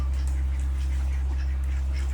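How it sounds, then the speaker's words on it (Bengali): Young native ducklings quack in a short flurry of calls over a steady low electrical hum. "ছোটো ছোটো হাঁসগুলা বড় হয়ে গেছে মাশাআল্লাহ।"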